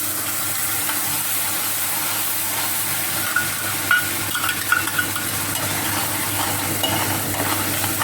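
Onions go into hot oil with cumin and sizzle in a steady, loud frying hiss that carries on unbroken, with a few faint stirring clinks midway.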